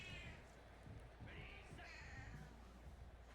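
A cat meows a few times, faint and mid-distance, under steady background noise and crowd and announcer sound from the college football video game CFB 26.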